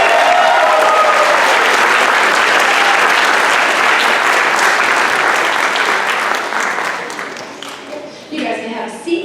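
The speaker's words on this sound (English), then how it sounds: "Let's give them a round of applause." Dense audience applause fills the room after a sixth grade orchestra spring concert at a middle school, loud and steady before thinning out near the end as a few voices come through.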